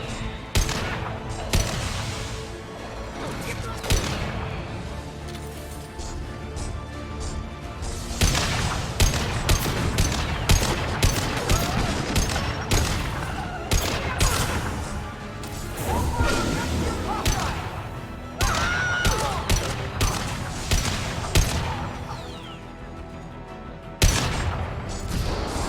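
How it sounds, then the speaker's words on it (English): Heavy gunfire from the Mass Effect 2 video game, with dense bursts of shots, crashes and impacts running throughout over a loud, busy battle mix. "Nice shooting!"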